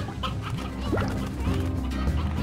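Chickens clucking in the video game Slime Rancher, several short clucks at mid distance over a steady game background hum and music, no one speaking.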